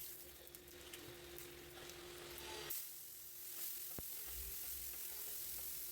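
Chicken curry meat frying in a pan: a faint, steady hiss of oil with a low hum underneath, growing brighter partway through, with a single soft knock and no voices.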